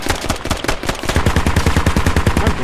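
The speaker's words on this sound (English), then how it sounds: "I shot him through the wall" Rapid automatic gunfire from a rifle in the military shooter game Squad, a dense rhythmic string of loud close shots that intensifies midway and runs continuously to the end with no talking.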